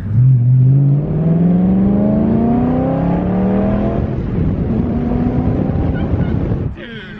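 A BMW E92 M3 with a cheap aftermarket exhaust revs loud and close, its engine note climbing in pitch before dropping back on a downshift, with people talking excitedly over it.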